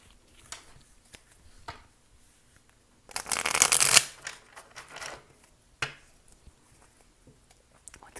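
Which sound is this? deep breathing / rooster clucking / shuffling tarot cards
shuffling tarot cards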